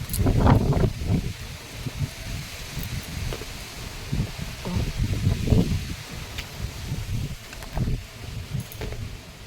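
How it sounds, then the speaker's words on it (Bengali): Gusty wind buffeting the microphone with rushing, rustling surges, heavy rain blown in bursts into a house that rise and fall throughout. "এই দেখো হাওয়া ছাট মারছে এত এদিকে ঢুকে যাচ্ছে জল"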